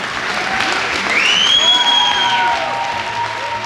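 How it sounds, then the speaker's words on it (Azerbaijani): Audience applause in a theatre as the first performer is invited onto the stage, a steady dense clapping crowd throughout, loud and close, with faint overtones from stage sounds riding above. "İlk iştirakçını səhnəyə dəvət edən sizin alqışlarınızla."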